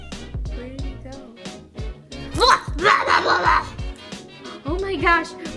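A dog barks and whimpers in short yips among busy voices, with louder bursts of barking in the middle as people talk over it nearby.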